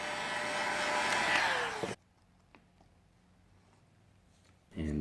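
A heat gun blows steadily as it shrinks heat shrink tubing over motor wire connections, a loud broadband whoosh for about two seconds before cutting off, leaving near silence until another burst starts at the end.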